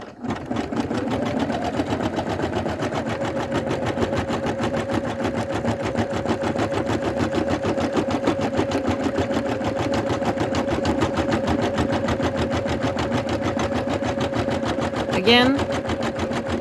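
An embroidery machine stitches the covered satin edge of an applique on an in-the-hoop zipper bag, a steady fast rhythmic needle clatter throughout with a steady hum, and a brief voice near the end.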